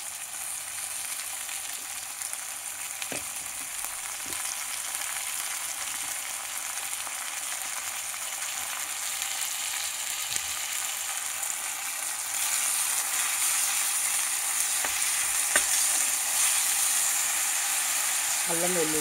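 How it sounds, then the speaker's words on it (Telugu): Mutton keema sizzles and hisses steadily in a hot pan, with occasional scrapes and knocks from stirring, the frying growing louder and brighter partway through. "ఇప్పుడు కీమా వేసేస్తున్నాను."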